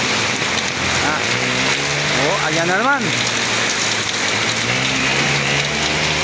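Heavy typhoon rain pours down steadily along a street, a dense continuous hiss throughout, with a voice speaking briefly over it.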